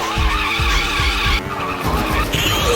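Constant tire squealing and skidding in the video game Speed Power Gunbike, loud and sustained over a revving engine, with repeated thumps and shifts in tone.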